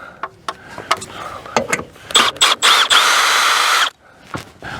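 A power drill pulls the bolt that holds an old patio awning arm to its head, starting with short bursts of whirring, then a sustained loud spin of about two seconds, then a brief tap after it stops.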